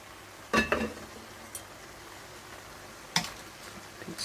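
Cabbage stir-fried for seafood yakisoba, with a soft sizzle under a few sharp utensil knocks and scrapes against the pan, spaced irregularly and close.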